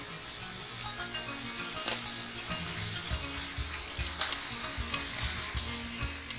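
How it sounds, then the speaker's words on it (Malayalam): Tomato and pineapple cook together in a pan for rasam, giving a continuous close sizzle and frying hiss broken by scattered clicks and scrapes of stirring, steady throughout with no voices. "ഇതെല്ലാം കൂടെ ചേർത്തിട്ട് ഒന്ന് നമുക്ക് കുക്ക് ചെയ്തെടുക്കാം"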